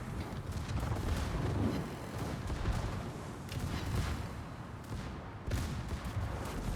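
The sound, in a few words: battleship secondary guns firing in a video game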